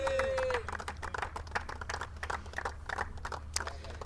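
A crowd at the Abu Dhabi Capital Cup 2025 cricket plate final claps for the winning team captain, a sparse, uneven patter of hand claps at moderate distance, with a brief tone at the start.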